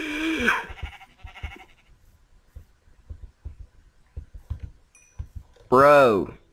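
Sheep bleat in the Minecraft video game, one loud wavering bleat near the end after a faint one at the start, with soft clicks and footsteps from play in between.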